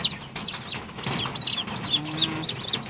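Several mother hens cluck repeatedly in short, throaty bursts at close range near newly hatched chicks, with no talking over them.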